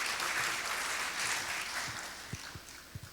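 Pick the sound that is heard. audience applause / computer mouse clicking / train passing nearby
audience applause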